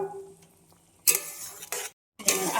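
Fried fish roe is tipped into a simmering curry gravy and stirred, giving bursts of wet scraping and sizzle separated by a brief pause, close and fairly loud, with no talking.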